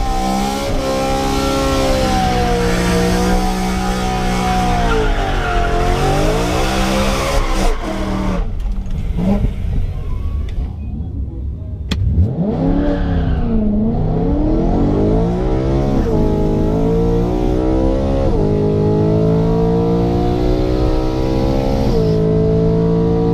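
VW Mk1 drag racing car heard from inside the cabin on a quarter-mile strip, loud engine climbing in pitch through the gears with brief dips at each shift, steady and close throughout with no talk.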